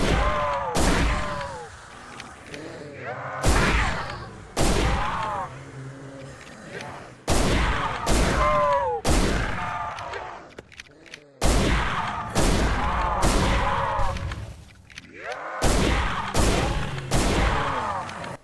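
The Showstopper shotgun firing single explosive Frag-12 slugs in the zombie game Project Lazarus: about nine loud, booming blasts at irregular intervals, each followed by a rumbling decay, with game sounds between shots.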